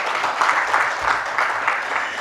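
An audience at a symposium applauds after a talk, steady close clapping with a light wash of crowd noise throughout.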